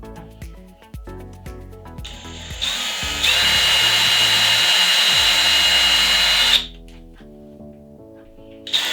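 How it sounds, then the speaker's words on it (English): A power drill whines steadily at close range for several seconds as it pre-drills holes in wood, with a few clunks before it starts and after it stops. "use your drill bit and we're just going to pre-drill those holes right there"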